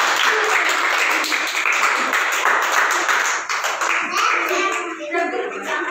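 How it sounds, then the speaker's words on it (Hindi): Children clapping loudly after a train game, a sharp, crisp burst of many small hands that thins into scattered claps and fades, with children's voices mixed in. "जोर से ताली बजाओ सब लोग।"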